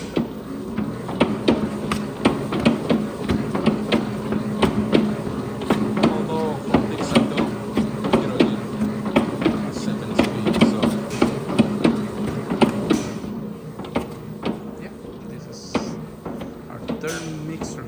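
A Hobart 2.7 horsepower commercial mixer churns 90 pounds of real dough with a loud, continuous motor hum. Rhythmic thumps and knocks repeat as the dough turns in the bowl, and a person talks intermittently over it.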